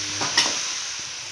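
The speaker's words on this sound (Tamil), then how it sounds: "இப்போ இதை நல்லா எண்ணெயில் வதக்கலாங்க" Broad beans being sautéed in oil with onion and tomato for a Tamil broad bean thokku, a steady close sizzle with a brief louder stir scrape near the start, no voices.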